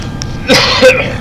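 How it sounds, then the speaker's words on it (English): A single rough cough, close and loud, quick and harsh like a throat being cleared. "Another cough in your face there."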